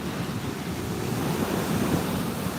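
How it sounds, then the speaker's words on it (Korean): Heavy sea surf driven by a typhoon pounds steadily and loudly, a continuous roar of breaking waves mixed with wind buffeting the microphone, with no voices. "네, 파도가 장난이 아닙니다."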